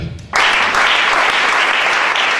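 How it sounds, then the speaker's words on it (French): A church congregation bursts into sudden loud applause at a Gabonese teaching service, the clapping dense and sustained from the first instant after a brief lead-in. "Acclame ça"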